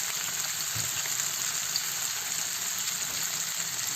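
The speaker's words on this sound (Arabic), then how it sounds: "نزيدو اولا البطاطا ومن بعد نتبعو البصله." Potatoes and onion fry with peppers in a pan, giving a steady, even sizzle that holds at a moderate level close by, with faint stirring underneath and no talking.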